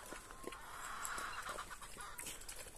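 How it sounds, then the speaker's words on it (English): A group of chickens clucking and squawking nearby, a busy continuous chatter of fowl calls without speech. "Chickens are waiting for their food, I think."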